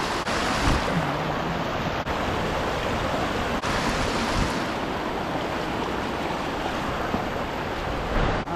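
Wading through a shallow forest stream at low water, with steady loud rushing and sloshing water that runs without a break, close up and alone with no voices.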